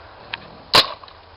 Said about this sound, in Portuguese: Dá uns tiros lá.